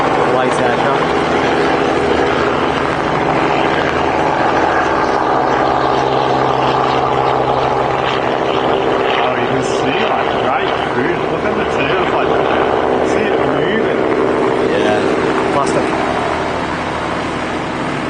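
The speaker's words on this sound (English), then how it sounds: "One of the two-seater ultralights on the way in here." A two-seater ultralight aircraft flies in to land at Barton Aerodrome near Manchester: a steady, loud propeller-engine drone with rushing wind noise that holds throughout and eases slightly at the end.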